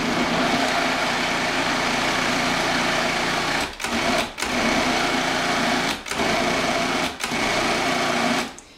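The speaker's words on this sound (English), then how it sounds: "I'm going to process this one more time." A food processor pulses hummus in a home kitchen, a steady loud motor whir broken by four short stops, each burst restarting immediately.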